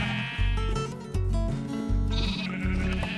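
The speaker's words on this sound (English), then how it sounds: "Now that all the sheep are in," Sheep in Minecraft bleat in a steady series of loud, close calls, about four in a row, with no talk over them.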